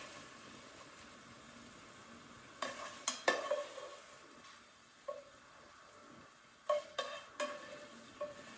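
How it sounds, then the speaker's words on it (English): Beef sizzles in a frying pan as the meat is lifted out, with a low steady fry under a handful of sharp scraping and clattering knocks from a utensil against the pan, clustered in two brief bursts. "I'm going to remove the meat from the pan."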